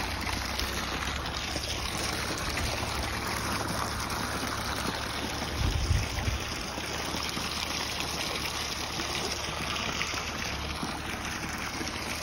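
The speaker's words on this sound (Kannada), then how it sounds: "Friends, you can see the biodigest fluid coming to the next tank from the biodigest tank." Biodigester fluid flowing from the digester into the next cement tank, a steady, continuous trickling wash of water that runs evenly throughout, with a low rumble in the background.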